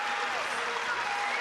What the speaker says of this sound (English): that gets a big cheer